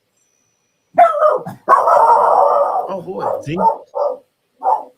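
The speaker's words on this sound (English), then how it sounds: "the dog is saying yes, yes, yes, yes, yes" A nearby dog vocalizes loudly: a drawn-out, howling bark, then a few short yips spaced apart, with a person briefly speaking.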